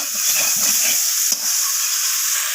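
Pointed gourd and other vegetables sauté in a hot pan with a loud, dense, steady hiss of frying, broken by one brief scrape of stirring near the middle.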